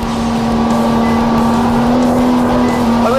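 A Cobb GTR or Techart GT3 sports car accelerating out of a corner, a loud, close, steady engine roar with a rising pitch throughout.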